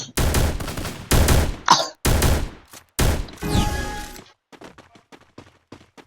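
Gunfire from Free Fire MAX during a 2v2 match rattles out in four loud automatic bursts close together, followed by quieter scattered shots trailing off.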